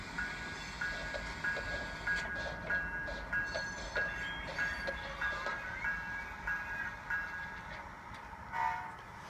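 A Soundtraxx Tsunami sound decoder in a model train locomotive, sending out steady rhythmic chuffing and a faint high whistle-like tone over a low rumble, fairly quiet with no talk.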